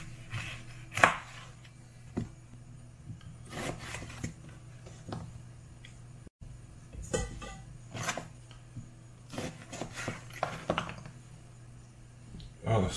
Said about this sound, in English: Let's go ahead and cut the oranges up now